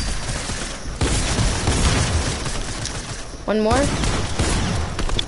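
Gunfire from an AK rifle in a video game: sustained bursts of shots over roughly five seconds, loud and close, mixed with a player talking and game effects.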